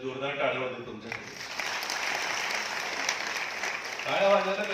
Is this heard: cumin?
no